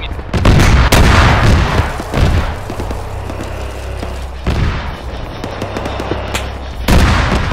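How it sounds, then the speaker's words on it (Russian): Friendly gunfire in a first-person shooter video game, with loud bursts of close shots and booming reports in clustered volleys, separated by quieter stretches. "Свои стреляют."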